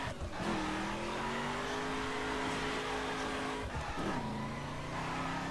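A sustained engine drone from a 2011 Ford Mustang in the racing game The Crew holds a steady pitch, dips briefly, then resumes at a slightly lower tone, loud and continuous without talk.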